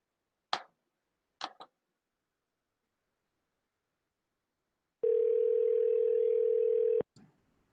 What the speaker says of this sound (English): Pam, I'm going to try calling both Holly and Mike to invite them to the meeting